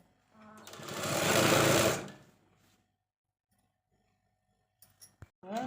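A sewing machine stitches the folded hem of a school uniform skirt in one loud, fast burst of about two seconds at close range. A few faint clicks and handling sounds follow.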